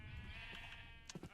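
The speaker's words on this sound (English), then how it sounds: "There's sheep, which is great." A sheep in the survival game RLCraft gives a short, faint, wavering bleat, a single quiet call followed by a few soft clicks.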